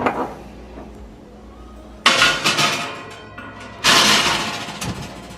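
A cloth face mask being put into a preheated oven, with two loud clattering bursts of metal racks and oven door sliding and clanking, separated by quieter moments.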